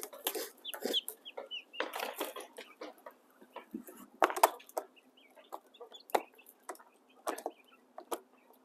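Male quail in a backyard coop call in repeated short, sharp clucks and chirps. The calls come in scattered bursts with small gaps between them, fairly close and moderate in level, with no talking.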